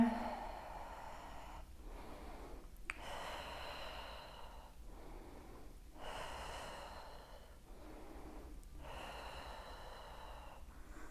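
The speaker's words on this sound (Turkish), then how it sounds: "Nefes al ver. Al ver." Slow, deliberate breaths in and out during a pregnancy exercise session, close and soft, repeating in a steady rhythm of long inhales and exhales separated by brief pauses.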